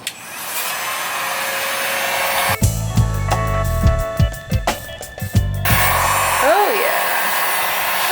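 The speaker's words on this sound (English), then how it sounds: "Alright, heat gun," A heat gun blows hot air in a loud, steady roar from start to finish, with a clattering, thumping stretch midway and a brief voice near the end.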